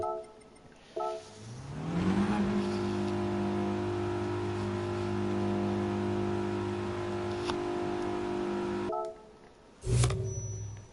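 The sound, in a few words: car engine revving from too much throttle in video game GT Sport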